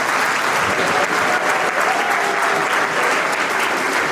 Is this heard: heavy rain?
no